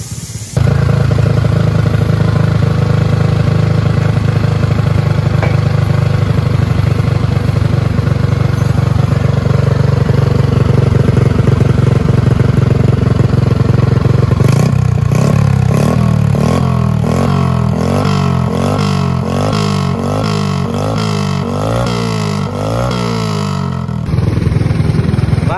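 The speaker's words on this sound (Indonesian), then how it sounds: "motor ini sekedar bisa hidup aja ya" A motorcycle left unused for a long time runs after being started, with a loud, close, steady idle that gives way to a series of sharp throttle revs rising and falling near the end.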